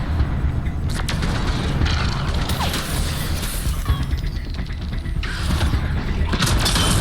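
A large hangar door closes in Mass Effect Andromeda, a loud sustained mechanical grinding with creaks, clanks and ratcheting, steady throughout with no talk.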